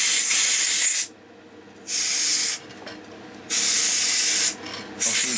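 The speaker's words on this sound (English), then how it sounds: "So we'll give it a squirt with some air duster to see if we can get anything in between the tuning plates and maybe quieten it down a bit" Short bursts of air duster spray blown into the tuning gang plates of a Tivoli iPAL radio, three loud hissing blasts separated by brief quiet gaps.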